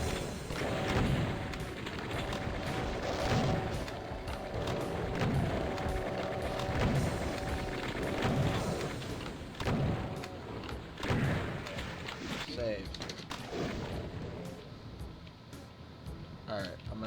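In the game Doom, a Cyberdemon fires at the player, producing repeated booming blasts and thuds over a dense rumble of game noise, with someone talking throughout.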